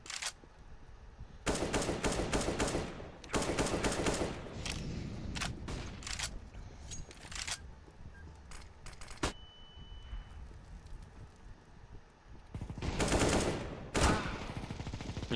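Automatic machine gun fire in the shooter game CS:GO, several loud rapid bursts of a few seconds each separated by quieter gaps with scattered single shots.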